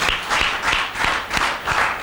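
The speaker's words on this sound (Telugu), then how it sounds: "గట్టిగా చప్పట్లు కొడదామా?" A church congregation in Khammam claps loudly together in a steady, rhythmic beat, the pulsing bursts of applause filling the room with no voices over them.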